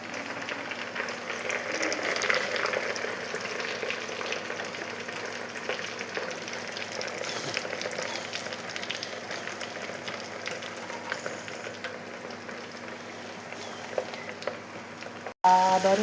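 Butter boils into ghee in a pan: a steady, soft bubbling sizzle with a crackling hiss that carries evenly throughout, ending with a brief sharp knock.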